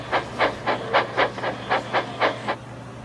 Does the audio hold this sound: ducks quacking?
no